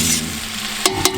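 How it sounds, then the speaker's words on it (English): Pork fat rendering in a pan on a cast iron kamado grill, a loud steady sizzle up close with a couple of sharp stirring clanks near the end. "got a good little rendering going on here, as you can hear it there"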